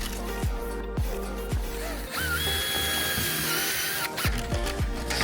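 A power drill drives self-tapping screws into aluminum rail clips, its motor whirring with pitch changing as the screws bite, broken by several short bursts and pauses close by.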